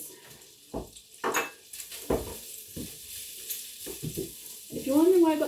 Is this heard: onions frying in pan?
yes